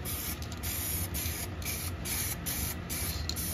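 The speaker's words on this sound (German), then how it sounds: "Einfach mal auf der Sprühdose." A spray paint can hisses fresh paint onto a small carburetor holder, a steady, close, continuous spray with slight pulsing and no pauses.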